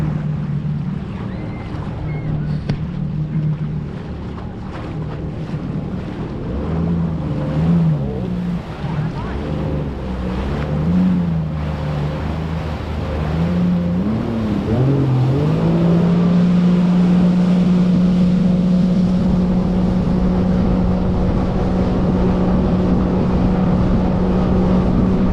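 A 2025 Yamaha WaveRunner VX Deluxe runs on open water, a loud continuous engine drone with wind and spray. The pitch wavers in the middle and then rises to a steady, higher whine as the throttle opens.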